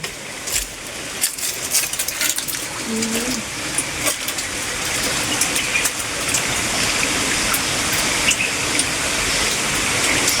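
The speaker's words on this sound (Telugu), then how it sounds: "ఇక్కడి నుంచి అయితే నీళ్ళు పడుతుంది" Steady trickling spring water drips from rock at a cave shrine in Nellore district, a continuous broadband wash that grows slightly louder, with faint voices in the background.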